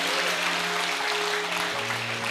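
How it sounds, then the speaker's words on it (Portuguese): A church congregation applauds in a dense, continuous wash of clapping, with a low sustained tone running underneath. "Eu posso ouvir um aplauso aí?"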